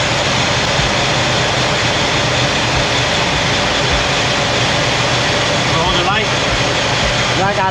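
A Chevrolet 4.3 Vortec engine with an Edelbrock 1403 Performer intake, which has trouble staying running, drones at a steady close idle with an even rumble throughout.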